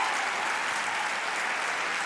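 A judo crowd at the Portugal Grand Prix applauds and cheers a bronze medal win, producing a continuous, even wash of clapping from a large audience with no pauses.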